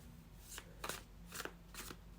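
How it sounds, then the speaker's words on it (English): Tarot cards shuffled by hand in quiet, a few crisp riffling bursts of card noise over a low steady hum, with no talking. "let's shuffle with intention"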